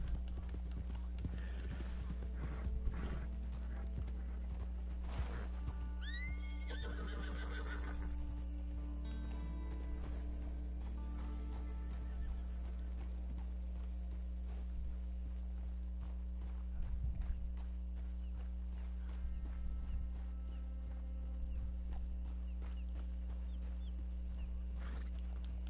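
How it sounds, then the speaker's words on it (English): Horse hooves clip-clop at a walking pace in the Red Dead Redemption 2 game, with a brief whinny early on, all over a constant low hum and soft ambient game sounds. "If you want to ride on my horse, you can."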